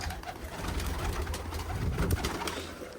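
Pigeons coo softly and repeatedly close by in a coop in Punjab, their low throaty calls overlapping against a rustling, noisy background.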